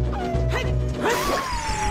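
Dog barking in The Legend of Zelda: Ocarina of Time, a couple of quick yappy barks amid game sound effects and a rising electronic tone.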